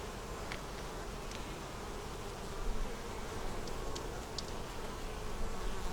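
Dense, continuous buzzing of many honeybees swarming close around a hive, steady throughout with occasional louder passes.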